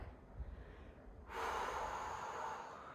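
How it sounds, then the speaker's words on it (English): A single breath during a gentle seated Pilates neck mobility exercise is drawn in audibly and then released as a soft, airy exhale close to the microphone. "Breathing continuously."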